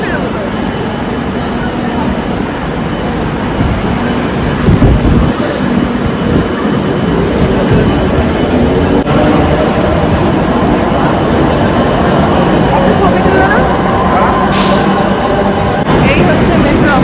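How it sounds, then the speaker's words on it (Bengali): A crowded Kolkata metro train during Durga Puja, a continuous loud rumble and rushing roar of the moving carriage with a dense murmur of passengers throughout. "এই হচ্ছে মেট্রো অবস্থা পুজোতে, বিশাল ভিড় মেট্রোতে এখন।"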